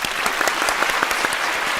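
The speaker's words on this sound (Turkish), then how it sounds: "bir kocaman alkış" Steady applause from a TV game show studio audience, dense clapping throughout at a fairly loud level with no talking.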